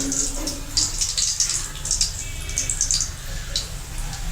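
Cut potatoes being soaked in water in a home kitchen: splashing and trickling water with light clinks and bright knocks scattered through, close and moderately loud over a low background hum.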